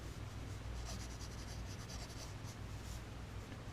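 Pencil or pen scratching out a quick thumbnail sketch in an art journal, a continuous close, soft rubbing and scribbling with short strokes over a low background rumble, with no talking.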